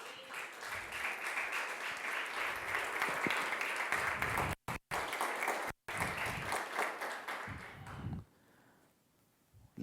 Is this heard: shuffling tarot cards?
no